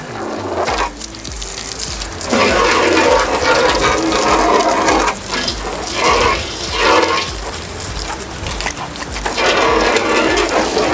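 Loud, steady rush of water from a high-pressure bike/car washer spraying, broadband hiss with surging pulses and brief dips, no talking.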